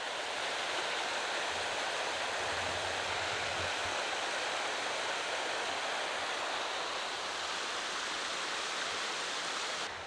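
A creek flows beside a hiking trail, a steady broadband rush of running water that stays even and moderately loud throughout with no voices.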